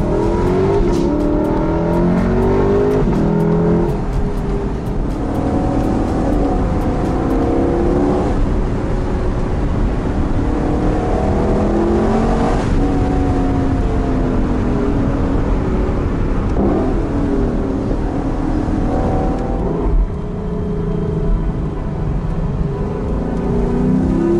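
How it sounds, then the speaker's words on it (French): A Lexus LC 500 Cabrio on the move gives a loud, sustained engine and intake growl, with pitch rising and falling through revs and gear changes over about twenty-four seconds, with no voices over it. "Et vous avez ce bruit d'admission, les amis."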